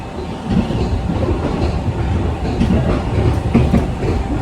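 A Deux-Montagnes Line commuter train runs along the rails, giving a loud, close, continuous rumble with repeated clickety-clack wheel beats over the track joints.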